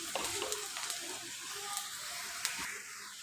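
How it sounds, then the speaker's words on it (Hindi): Onion frying in oil in a kadhai gives a soft, steady sizzle that stays faint and even, with a few light scrapes and ticks from stirring. "प्याज को डाल दिए, प्याज फ्राई हो रहा है"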